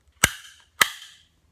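Two sharp, loud clicks about half a second apart as a 6.0 Powerstroke coolant reservoir cap is turned, each a crisp snap with a short ringing tail, close up and otherwise quiet.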